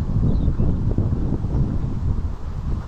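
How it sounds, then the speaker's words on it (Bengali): Strong cyclone wind roars and buffets the microphone in a continuous low rumble that swells and eases in gusts, loud and close with no voices. "কিন্তু প্রচন্ড পরিমাণে বাতাস, একেবারে অনেক বেশি বাতাস"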